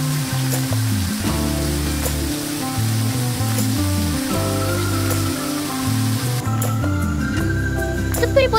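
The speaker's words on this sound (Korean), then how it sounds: "습도가 높아 더웠는데 실내 폭포라니." Indoor waterfall in a humid botanical garden greenhouse at Seoul Botanic Park in Magok, giving a steady, continuous rush of falling water with music playing over it throughout.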